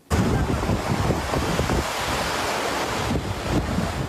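Floodwater from the overflowing Meschio river rushes through town streets and a flooded square in Cordignano, a loud, steady broadband roar of churning water and wind that keeps going with no speech.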